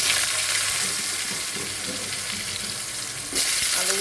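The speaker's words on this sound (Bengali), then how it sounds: "আলুগুলো আলাদা ভেজে উঠিয়ে নেব" Potatoes fry in the same oil used for katla fish, a loud dense sizzle that holds steady throughout and surges briefly near the end.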